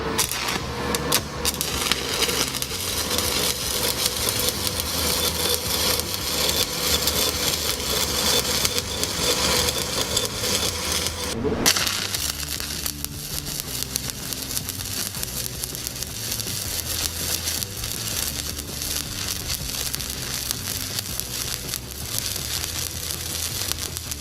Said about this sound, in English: I'm going to go ahead and lay that last stringer on that cap right now